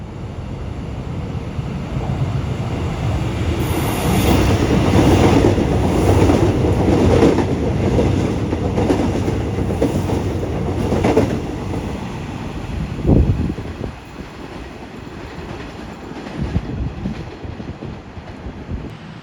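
Pangandaran economy premium passenger train running along the rails, a steady rumbling roar with buffeting wind noise, a sharp clank near the middle and softer rolling clatter toward the end.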